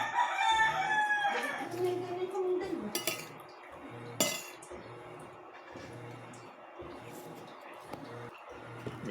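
A rooster crowing close by, a loud drawn-out call at the start, followed by clattering of dishes and pots and brief knocks in a household setting, with some voices in the background.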